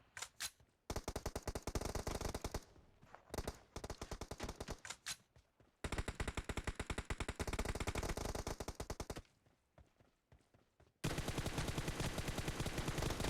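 Rapid automatic gunfire from PUBG Mobile, loud and close, fired in several sustained bursts with short pauses between them, with no talking.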